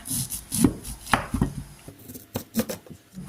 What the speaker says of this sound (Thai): เดี๋ยวเราก็มาหั่นยอดมะพร้าวกันก่อนเลย